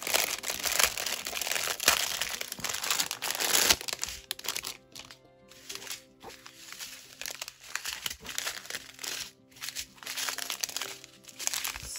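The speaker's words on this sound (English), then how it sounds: "Excuse the crinkling." A small plastic bag of off-white diamond painting beads crinkles loudly and irregularly up close, with sharp rustling bursts between softer handling.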